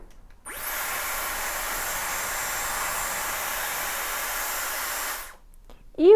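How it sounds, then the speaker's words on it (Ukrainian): A Dyson hair styler blows on its cold-air setting, a steady, close, airy whoosh that holds for about five seconds before cutting off. "Переключаю на холодне повітря."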